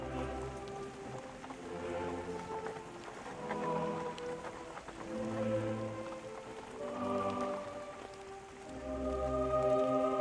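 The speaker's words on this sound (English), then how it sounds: "In the last clip, it's Laurel at the funeral in the rain" Steady rain falls during a funeral scene in the film Amadeus, a soft continuous patter on surfaces with faint low rumbling swells underneath.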